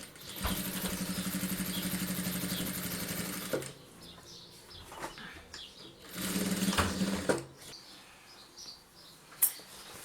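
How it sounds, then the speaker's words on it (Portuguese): A sewing machine stitches a fabric shoulder bag for mother and baby, with a steady close motorized whir in two bursts separated by quieter pauses, plus faint background sounds and no talk. "costurando aqui nessa parte, vou finalizar"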